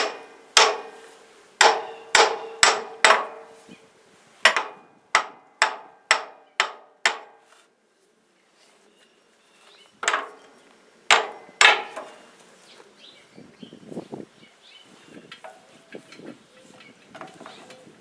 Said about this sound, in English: Okay, I got my trusty hammer here.